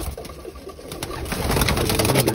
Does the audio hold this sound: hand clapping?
no